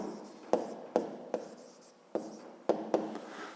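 A pen writes on paper while a fifth-grade maths exercise is solved, with short scratchy strokes in seven separate bursts, each fading quickly, close up and alone.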